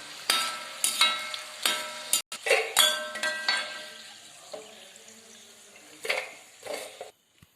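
Homemade French fries being stirred in hot frying oil: repeated clinks and scrapes of a utensil against the pan over a steady soft sizzle, in irregular bursts with short pauses and no talking.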